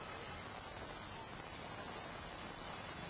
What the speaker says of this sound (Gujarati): સુરત શહેરમાં વિવિધ વિસ્તારોમાં ગાજવીજ સાથે ધોધમાર વરસાદ વરસી રહ્યો છે.